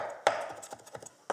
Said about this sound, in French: Alors, donc on hache l'ail,